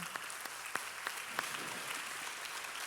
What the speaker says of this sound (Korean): 지금 이곳에 계신 대략 60세 이상이신 분들에게 우리 감사하다는 우리 박수 한번 하겠습니다.